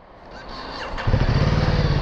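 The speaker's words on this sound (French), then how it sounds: "Allez, c'est parti, on va démarrer donc la moto." A Ducati Multistrada 1260 S motorcycle with its stock exhaust cranks with the starter whine, then fires into a loud, throbbing idle that settles into a steady rumble close by.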